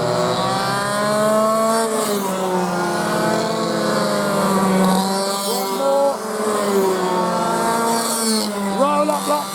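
Clubman Heavies race cars scream past on the Geelong track, a loud sustained engine roar with rising and falling pitch as several cars go by in succession, under a commentator's voice.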